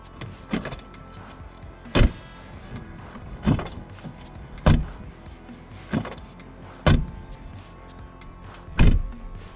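A 2025 BMW iX xDrive70's car door thuds shut six times at regular intervals, each a dull, solid slam with quiet pauses between.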